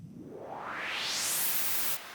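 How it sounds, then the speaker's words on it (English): Stereo noise riser built from two separate noise generators sweeps steadily upward in brightness over about two seconds, growing louder, then cuts off abruptly near the end, with no voices. "a noise riser basically"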